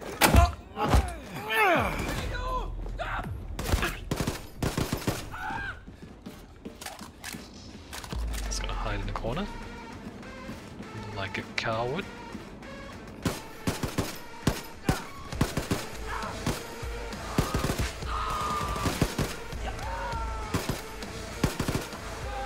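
Bursts of submachine gun fire in Wolfenstein II, rapid sharp volleys coming in clusters with pauses between, loud and close, mixed with other game effects and a voice talking at times.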